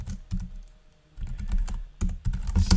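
Keys clatter on a computer keyboard in quick irregular bursts of typing with short pauses, close and fairly quiet.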